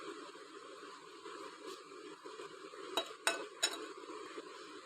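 A spoon stirs spice paste mixed with water in a bowl, making soft, faint scraping and swishing, then a few brief clinks of metal against the dish near the end.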